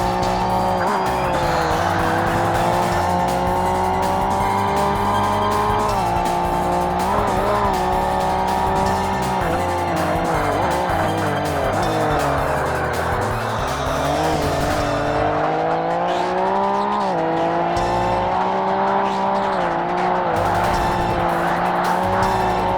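Race car engine from Forza Motorsport (2005) screams continuously at close range, its pitch climbing and dropping through gear changes while tires squeal through corners, with no talking.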